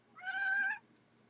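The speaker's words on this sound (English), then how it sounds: "Because there's a cat." A single clear, drawn-out cat meow of under a second, close and moderately loud against near silence.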